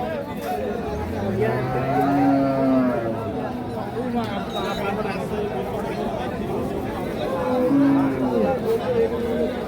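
Holstein Friesian cows and calves low repeatedly at a busy cattle market, several drawn-out moos rising near and clear above a constant crowd babble of traders and buyers talking.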